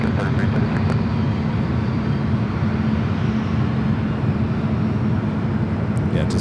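An airplane landing at San Francisco airport gives off a steady, loud, low engine roar that holds without a break for several seconds.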